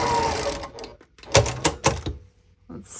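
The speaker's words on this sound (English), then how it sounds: "now I'm going to stitch the half square triangle and the curve together" A sewing machine stitches a quilt's half square triangle to a curved piece, with a steady whir at first, then a pause and a few short bursts of stitching, close and clear.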